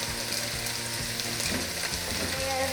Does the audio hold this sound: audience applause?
no